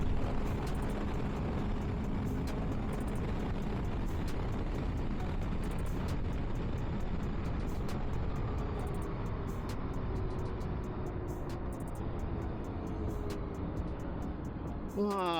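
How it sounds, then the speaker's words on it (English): Road traffic passing an Aprilia Tuono V4 motorcycle cruising in sixth gear on a New Jersey road on a Sunday, with steady close wind and engine rumble throughout and vehicles rushing by. "More traffic."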